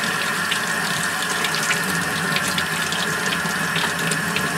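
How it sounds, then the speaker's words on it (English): Tap water runs steadily over a copper piece being rinsed at a sink, a continuous close splashing hiss with no pauses and no voices. "So now I'm just going to rinse it off a little bit."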